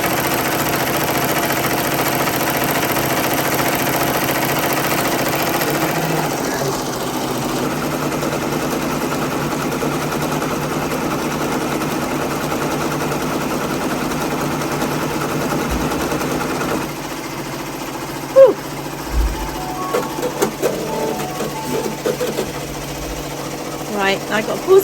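An embroidery machine stitches at 850 stitches per minute with a steady, rapid mechanical whir and clatter that runs unbroken for most of the span, then gives way to quieter, irregular clicks and knocks.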